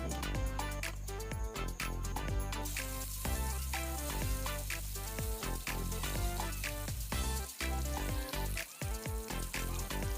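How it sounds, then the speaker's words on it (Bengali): Steady, dense sizzling and crackling of katla fish frying in hot oil, close and continuous with sharp pops scattered throughout. "এরপর আর যে মাছগুলো বাকি আছে সেগুলো আমি ভেজে নিচ্ছি"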